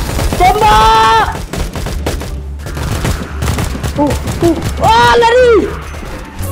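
Gunfire in a zombie shooter video game, loud rapid bursts of shots mixed with excited shouting from players speaking over the action throughout.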